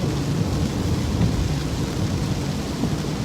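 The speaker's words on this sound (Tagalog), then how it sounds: "it's raining and it's pouring." Rain pours down steadily in Florida, a dense, even hiss of heavy rainfall with a low rumbling undertone, loud and continuous throughout without any voices.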